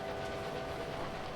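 A train in the railway video game Railway Empire gives a faint, brief, steady low rumble with no voices.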